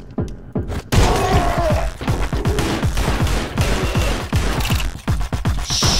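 Rapid, loud gunfire from a weapon in the video game Anger Foot, a dense string of punchy shots in quick succession with thuds and mechanical clatter mixed in, nearly continuous throughout.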